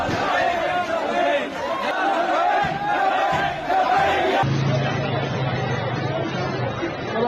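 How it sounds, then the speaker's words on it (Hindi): An angry mob in a street in Faisalabad, Pakistan, shouts and chants loudly and continuously, a dense roar of many voices up close, with the crowd noise shifting to a rougher murmur partway through. "लोगों की भीड़ सड़क पर उतर आई।"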